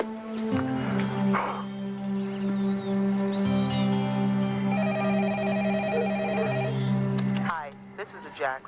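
A telephone bell rings steadily for several seconds over music and background sound, fairly loud and sustained before cutting off near the end.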